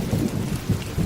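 Rain falls steadily with a deep rumbling roll of thunder underneath, a loud, dense storm wash from a Bengali horror cartoon scene at night on the water.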